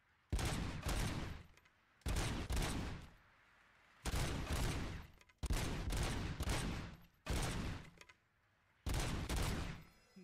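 Bursts of rapid automatic gunfire at a firing range in the video game RoboCop: Rogue City, six loud sustained volleys of roughly a second each, with brief quiet gaps between them.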